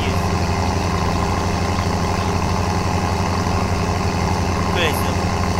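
Tractor engine idling in BeamNG, a steady low diesel rumble with even, regular pulsing that holds constant and loud throughout, with no talk over it.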